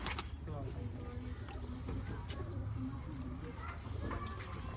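Pigeons cooing faintly at a rooftop pigeon-flying gathering, soft repeated coos under steady outdoor noise and rustling.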